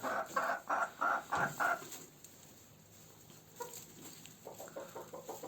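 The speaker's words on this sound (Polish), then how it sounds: "Kogucik naprawdę w porządku jest." A rooster kept with geese and hens in a breeding pen gives a run of rhythmic clucks, then a quieter pause before a second softer burst of clucking, fairly close.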